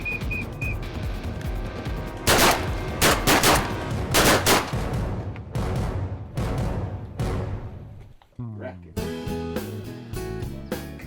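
Repeated sharp shotgun blasts from duck hunters crack out in bursts around a box blind, some close and loud, others farther off, with background chatter and outdoor noise between volleys.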